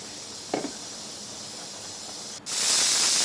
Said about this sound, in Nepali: अब सिटी पनि लाग्यो